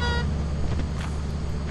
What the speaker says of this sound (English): Honk, honk, yeah.